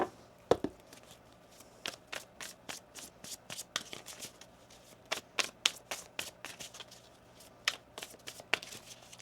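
A deck of tarot cards is shuffled up close, with quick papery riffles and flicks in an uneven, busy rhythm and no talking.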